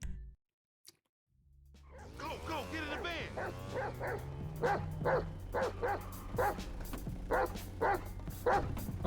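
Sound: dog barking in a video game

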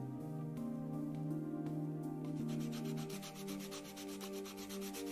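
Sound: sanding a toy with sandpaper in a video game

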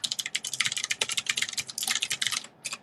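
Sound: typing a password on a computer keyboard

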